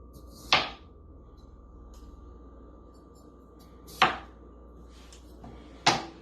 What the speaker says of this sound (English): Then you slice it to small pieces.